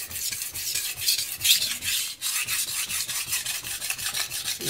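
A knife blade being sharpened on a Morihei Karasu 9k whetstone, with steady rhythmic rasping strokes back and forth, close and moderately quiet, with no talking.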